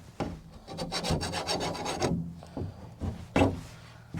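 Putty knife scraping adhesive gunk off a van's bunk window frame during a DIY install, a close, steady rasping rub that runs for about two seconds, then a few separate harder scrapes.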